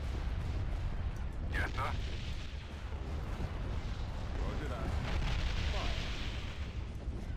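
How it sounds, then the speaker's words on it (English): Space warships trade weapons fire in the strategy game Star Wars: Empire at War, with a continuous rumbling barrage of booms and blasts, a few sharper zaps, and a brief spoken reply over the battle. "All ships fire at will."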